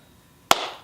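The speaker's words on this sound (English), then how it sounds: "Clap on that one" A single sharp hand clap, close and loud, ringing briefly into the room before fading.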